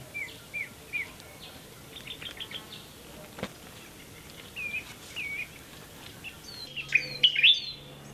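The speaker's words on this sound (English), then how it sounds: "paradise flycatcher." A red-bellied paradise flycatcher sings in short, repeated whistled phrases in Sierra Leone, fairly close, with several calls spaced through the clip and a louder burst near the end.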